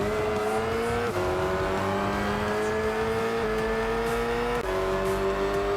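Race car engines in a sim racing video game, played on a budget wheel setup, drone and rev steadily, with pitch shifting at each gear change as several cars run close together in a pack, loud throughout with no talking.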